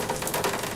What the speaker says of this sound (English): I've got a rain loop in the background